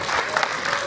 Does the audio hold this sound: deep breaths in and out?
no